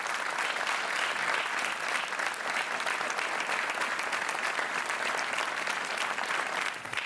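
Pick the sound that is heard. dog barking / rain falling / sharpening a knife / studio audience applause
studio audience applause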